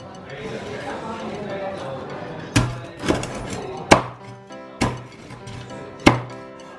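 A knife cuts through crispy Cantonese roast pork belly (siu yuk), giving several sharp, loud crackling crunches with irregular gaps after a quieter start, while people talk over the cutting.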